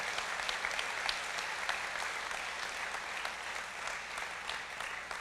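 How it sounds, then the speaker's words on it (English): A large audience at a tribal State of the Nation address applauds steadily and loudly, with dense, continuous clapping that holds throughout. "let's give our code talker families a big round of applause"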